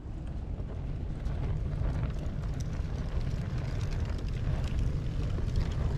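A fire tornado swirls inside a burn barrel, giving a continuous deep roaring rumble of rushing flame and air that grows slightly louder after the first second and stays steady and close, with no talk.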